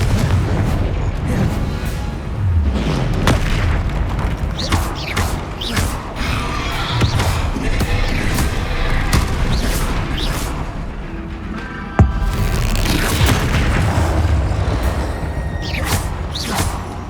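Blasting-spell explosions in the video game Hogwarts Legacy: loud booms and bursts erupt repeatedly over a dense, continuous bed of combat sound effects and music, with a sharp crack standing out near the end.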